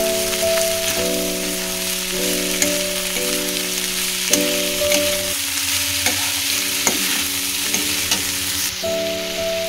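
Chopped cabbage stirred and frying in a pan alongside beans, a steady sizzle broken by scraping spoon strokes, heard under background music.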